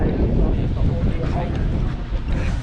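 Wind buffets the microphone outdoors at an Old Ford car rally at the British Motor Museum, a loud, constant rushing roar that partly buries a voice.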